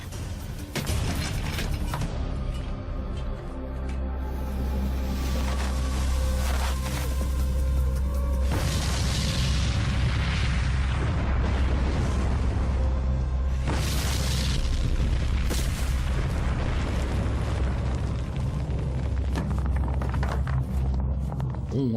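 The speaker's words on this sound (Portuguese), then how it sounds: "Com uma explosão final de pólvora, os dois túneis seriam um." A gunpowder blast tears through a rock railroad tunnel, a sustained deep booming roar with heavy low rumble that holds steady and loud for the whole stretch, with debris clatter on top.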